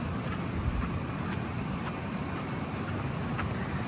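Wind blowing outdoors in humid weather, a steady broadband rush with low rumbling gusts buffeting the microphone, continuous and fairly loud with no speech.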